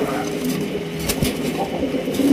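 A male Rajgolla pigeon coos softly amid steady background noise, a brief low call near the middle of the clip.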